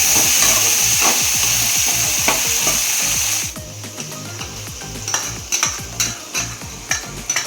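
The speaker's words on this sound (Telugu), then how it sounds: "టమాటాలు వేసి కలిపి కొంచెం మూత పెడదాం బాగా మగ్గుతాయి" Tomatoes stirred into a sizzling pan of goat-head curry: a loud, steady frying hiss at first, then quieter with repeated close scraping and stirring strokes against the pan.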